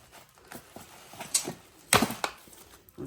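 Cardboard and plastic packaging rustle and snap as an Ardesto Gemini Lecco steel pot with a glass lid is unboxed, with sharp crinkling cracks over soft handling noise.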